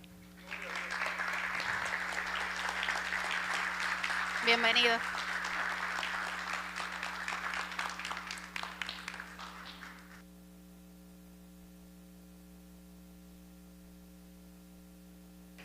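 Church congregation applauding to welcome an apostle to the pulpit, steady clapping for about ten seconds over a constant mains hum, with a brief spoken greeting partway through before the applause stops.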